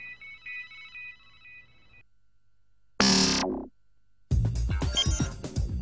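Mobile phone ringtone playing a thin electronic melody of repeated beeping tones for about two seconds, followed by a loud burst of distorted noise and a louder, harsher musical passage.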